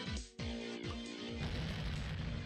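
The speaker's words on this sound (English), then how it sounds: "Explosions!" A rapid series of booming explosions in a shooting match against a bear, repeated heavy bursts about every half second before dissolving into a dense, continuous roar.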